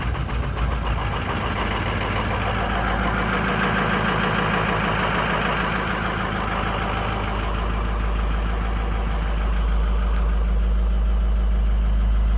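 A 2006 Ford F250 truck engine idles with a steady, even low rumble and a faint rhythmic knock, close and continuous throughout with no talking.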